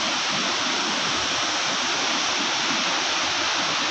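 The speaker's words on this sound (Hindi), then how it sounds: "भागीरथी गंगा के साथ जालंधर नदी का संगम देखते ऊपर से" Rushing river water roars steadily at the Himalayan confluence of the Bhagirathi and Jalandhari rivers near Uttarkashi, a dense, continuous, loud wash with no voices.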